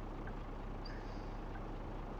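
A bus engine in Bus Simulator idles as a low, steady rumble, heard alone and fairly quiet, with a couple of faint higher chirps over it.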